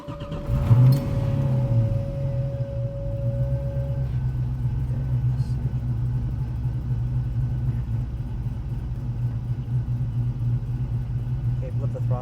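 A high-horsepower car engine running on a dyno holds a steady, deep droning rumble after a brief early rise, while people talk nearby.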